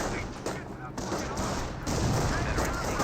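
Sniper rifle fire in a Company of Heroes 1 match (US versus Panzer Elite): dense, loud, overlapping gunfire and booming battle noise that fills the whole stretch without a break.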